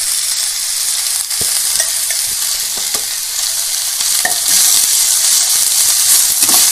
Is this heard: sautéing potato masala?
yes